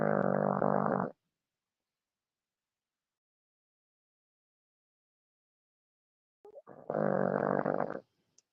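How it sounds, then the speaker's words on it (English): Two heavy, snorting breaths from a pug, close by and loud, separated by a long stretch of silence. "That's my pug, actually. Hang on, want to hear her breathing?"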